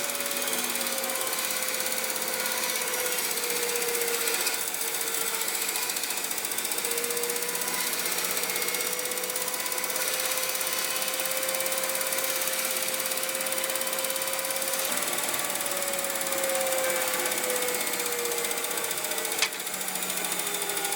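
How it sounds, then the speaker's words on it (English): A bandsaw cuts cherry wood with heavy vibration and poor blade tracking, a loud continuous rattling drone with a faint drifting whine over it, steady for about twenty seconds. "I don't think the bandsaw can handle that kind of cut."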